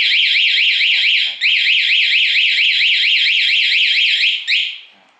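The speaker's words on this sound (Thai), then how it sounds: "ใครโดนรถ จะมีเสียงถ้าสมมติมีคนมาขโมยรถนะครับ" A loud, shrill electronic siren from a motorcycle anti-theft alarm warbles rapidly up and down, briefly cutting out once, then stopping abruptly near the end.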